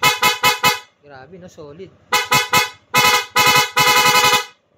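Loud, close blasts from an aftermarket PIAA car horn in short repeated bursts, with someone speaking briefly between them and a longer held honk at the end.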